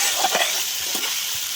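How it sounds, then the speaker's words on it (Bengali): A turmeric, chili and vegetable spice paste fries in a pan for a vegetarian potato, pointed gourd and soybean curry, giving a dense, even sizzle with a few soft stirring scrapes early on. "এরপর আমরা এই মশলাটাকে ভালোভাবে কষিয়ে নেব।"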